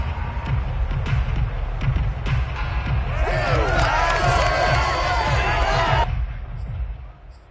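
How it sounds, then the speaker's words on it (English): Home crowd cheering in the Madden 22 football video game, a loud, sustained roar of stadium voices swelling over a few seconds before tapering off at the end. "that might be exactly what they needed to wake up this home crowd"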